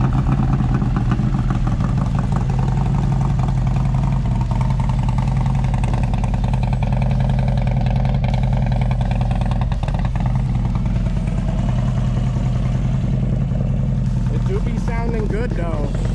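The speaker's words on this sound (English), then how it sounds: "let Chris do a quick rip by so you can hear it under load" A motorcycle engine runs loud and steady under load, with a constant low droning hum throughout and voices talking over it.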